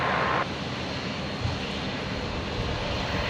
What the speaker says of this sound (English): And Qantas 1078 just cleared for takeoff on 19 right.